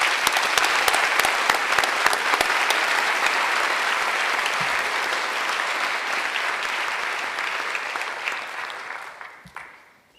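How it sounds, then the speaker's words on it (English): A crowd at a high school senior awards night applauds loudly and steadily for a group of named students, the clapping holding strong before tapering off near the end. "Let's give that group an applause."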